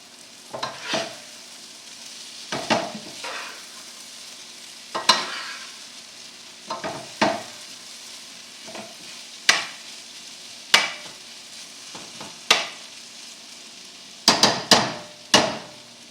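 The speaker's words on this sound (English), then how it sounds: "You can hear it sizzling." Mushrooms and onions cook in a pan on high heat, with a steady background sizzle broken by repeated sharp scraping and tapping strokes of a utensil stirring against the pan.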